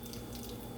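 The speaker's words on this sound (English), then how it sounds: "I don't want to pour too much in there at one time because I know it's all trying to strain" Walnut milk slurry pours into a strainer with a steady, soft trickling splash, close and continuous with no talk.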